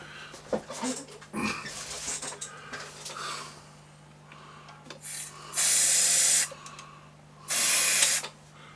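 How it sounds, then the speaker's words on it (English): Two short, loud hissing bursts of aerosol switch cleaner spray, about a second each, into a Dansette Automix record player, following soft handling noises and shuffling. "I'm going to spray some switch cleaner into it."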